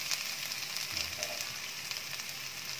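Salted fish fries in a pan with a steady, loud sizzle and crackle, plus a brief stirring scrape partway through.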